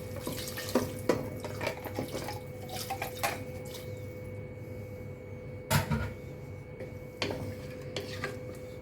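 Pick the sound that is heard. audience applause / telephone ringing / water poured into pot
water poured into pot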